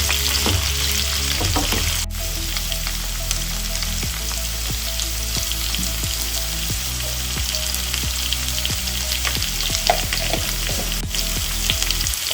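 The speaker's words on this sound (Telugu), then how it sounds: "ఈలోపు ఫ్రై ఎంతవరకు వచ్చిందో ఒకసారి చూద్దాం almost sixty to seventy percent అయితే మనకి ఫ్రై అయిపోయింది" Ivy gourd (dondakaya) with dried red chillies fries in a pan. A loud, continuous sizzle runs throughout, with occasional light scrapes and stirring taps.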